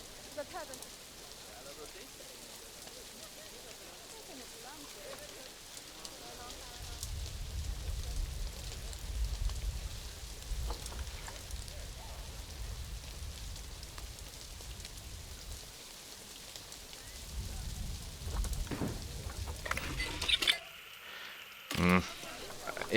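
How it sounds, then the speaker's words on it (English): Thunder rumbles and rain patters in the Planet Zoo video game: a steady rain wash throughout, with deep low rolls of thunder swelling in the middle and again near the end, moderately loud under faint background sounds. "Sounds like there's a little bit of thunder."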